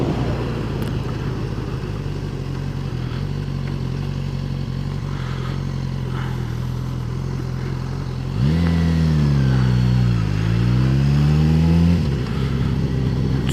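Riding a 2016 Suzuki GSX-S1000 motorcycle, the engine drones steadily at cruising speed, then rises and falls clearly in pitch as the rider rolls the throttle open and closed, loud and close throughout.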